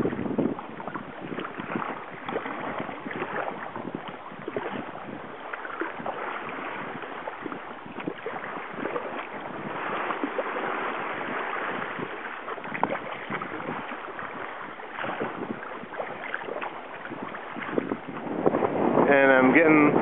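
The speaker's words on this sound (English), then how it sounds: "I've got a southeast wind pushing me along and a southeast current." Wind while sea kayaking with a southeast wind at sea produces steady, loud buffeting broadband rush that lasts the whole time, with paddling and water noise mixed in.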